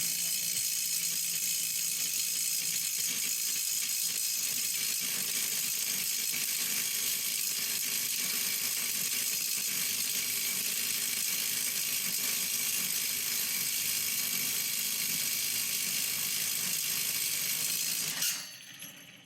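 A HyperTough 12V compact impact wrench runs continuously for about 18 seconds, a steady, fairly quiet buzzing whir with no pauses, then cuts off abruptly near the end.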